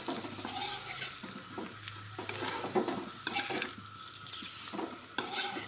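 Cumin, coriander powder, ginger and garlic fry and sizzle in a pan over low flame, with steady hiss and repeated scraping and stirring strokes of a utensil against the pan, no voices.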